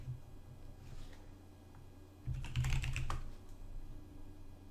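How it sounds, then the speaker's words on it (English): A short burst of computer keyboard typing, a quick cluster of clicks, stands out against a low background hum, with no talking. "let's close out of less by typing Q on the keyboard"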